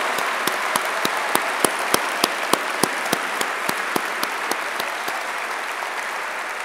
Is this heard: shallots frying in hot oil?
no